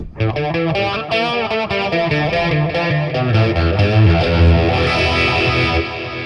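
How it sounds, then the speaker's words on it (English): Electric guitar played through a Boss Katana 50 MKII amp with a phaser chorus effect, a steady run of loud, shimmering chords and notes that fills the whole clip with no talking. "Sounds like a phaser chorus or something."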